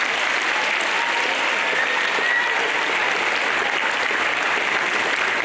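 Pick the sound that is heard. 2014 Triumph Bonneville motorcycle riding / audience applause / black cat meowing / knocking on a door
audience applause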